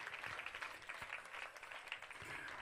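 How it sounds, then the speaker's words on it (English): Audience applause at a powwow dance gathering, a steady wash of clapping from a crowd that carries on evenly through the clip with no talk over it. "give yourselves a round of applause"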